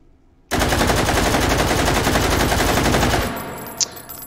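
A VZ58 rifle in 7.62x39 fires a sustained full-auto burst of about three seconds, a loud, dense, continuous roar of rapid shots close by, cutting off abruptly and leaving a ringing tail with a faint click afterward.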